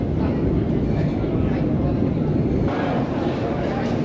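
A metro train arrives at an underground Russian station with a loud, sustained rumbling roar that fills the platform and shifts slightly in tone near the end.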